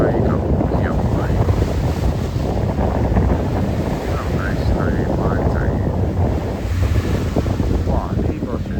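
A Star Ferry boat pulls away while strong wind buffets the microphone in a loud, continuous roar, with water churning underneath and faint voices at times.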